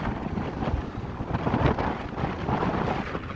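Strong wind gusts buffet the microphone on an exposed mountain saddle near Loveland Pass in Colorado winter, a loud continuous roar that swells and eases without pause.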